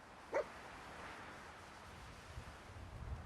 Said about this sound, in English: He's barking at me like, dude.